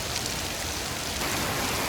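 Rain falls steadily on a winter woodland trail at Brandywine Falls, a constant, dense hiss at even loudness from start to end, with no voices.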